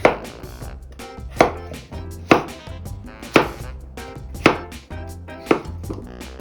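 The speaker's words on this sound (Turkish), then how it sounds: "küçük küçük küp küp parçalar halinde doğruyoruz" A knife chops potatoes into small cubes on a cutting board, six or so sharp, evenly spaced strikes up close.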